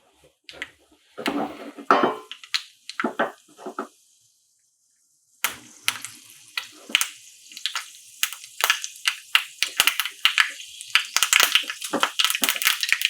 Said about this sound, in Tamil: ஒரு கடுகு பொரிஞ்சு வந்ததுக்கப்புறம்